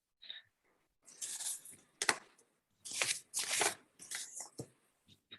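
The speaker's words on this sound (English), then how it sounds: "I'm going to give these cards a good shuffle" A deck of tarot cards being shuffled by hand in bursts of riffling and sliding card noise, close and fairly quiet, with short pauses between shuffles.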